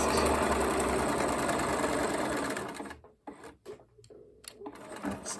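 A sewing machine runs a steady straight stitch across a dress fabric, loud and close for about three seconds, then stops and restarts in short uneven bursts with quieter gaps.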